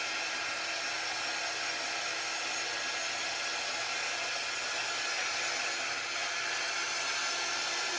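Steady, loud hiss of a hair dryer blowing continuously, a broad airy whoosh with no talking over it.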